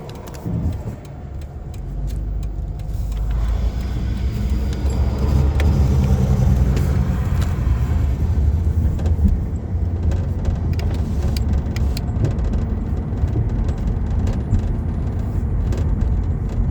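A 2007 Ford Taurus with worn suspension drives along a road, its engine and tire rumble steady and continuous from inside the cabin, with faint rattles and no talking.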